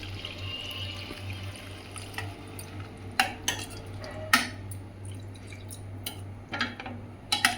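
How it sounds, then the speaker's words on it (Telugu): Water pours and splashes into a pan of simmering potato kurma in a home kitchen, with a few sharp clinks of a utensil against the pan over a steady low background hum. "కొంచెం వాటర్ యాడ్ చేసుకుంటున్నానండి."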